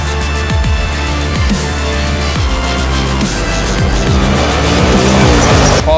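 A T814 race car from the Rivershore Motorsports Group at a qualifying session roars continuously at close range, its engine note climbing and dropping through repeated rapid gear shifts for the whole stretch.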